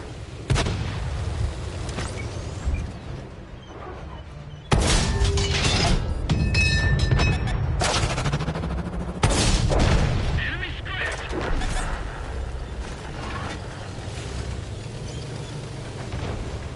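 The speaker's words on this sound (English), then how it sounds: "Our artillery should be all over their artillery now." Artillery fires in the World of Tanks video game: a few loud, separate booms with crackling debris in between, over steady battle noise.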